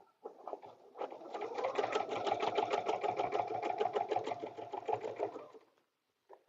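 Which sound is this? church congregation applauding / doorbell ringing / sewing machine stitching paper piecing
sewing machine stitching paper piecing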